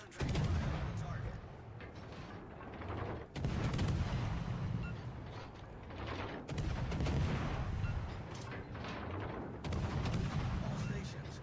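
Heavy naval gun salvos from warships in World of Warships: Legends, loud broad booms arriving in repeated bursts roughly every few seconds with rumbling decay between, over a steady battle din.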